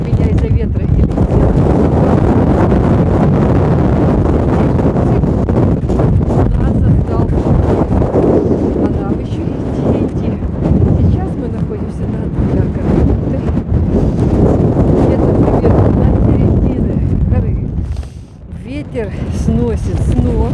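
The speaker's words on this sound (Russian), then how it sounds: "ветер так задувает, что выключает мой телефон сам" Strong, gusty storm wind in a bay with rain and snow, roaring and buffeting hard against the microphone, with a brief lull near the end. Someone talks under the wind.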